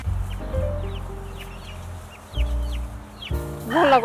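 Chickens cluck repeatedly at close range in a farmyard, with scattered bird chirps overhead and a louder burst of clucking near the end.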